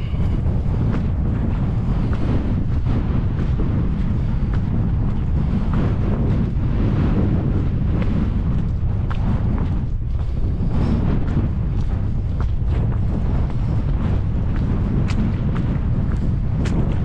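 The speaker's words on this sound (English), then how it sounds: "Well, it's a bit windy" Strong wind on an exposed hill along the Pennine Way roars and buffets the microphone without let-up, a dense rumbling rush with no voices.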